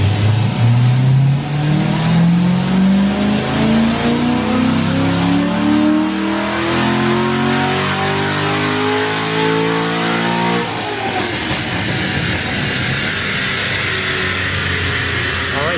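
A Corvette Z06 C6 in sport mode pulls hard through fourth gear on a dyno, its engine note climbing steadily in a loud, continuous rev for about ten seconds before cutting back and settling into a lower roar.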